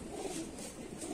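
Pigeons coo softly in a short, low burble from a fancier's loft, a brief muffled murmur with no talk over it.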